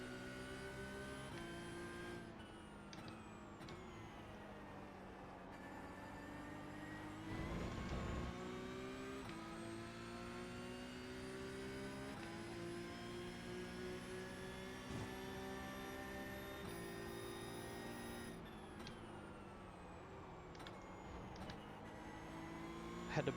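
A Porsche GT3 Cup race car engine drones and revs at Sebring in iRacing, its pitch rising and dropping through gear changes, with a brief lower burst of downshifting near the middle over a continuous loud engine note.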